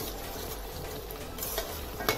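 A soy sauce and vinegar mixture is stirred in a hot pan while cooking veg Manchurian, giving a constant sizzling fry with a brief spoon scrape near the end.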